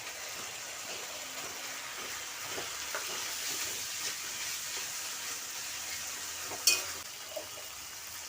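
Steady frying sizzle from chhana being cooked into a sautéed beans masala in a pan, a continuous hiss with a few soft stirring clinks and one sharp scrape near the end.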